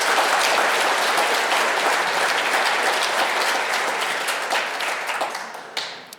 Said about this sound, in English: Let's give those top dealers a round of applause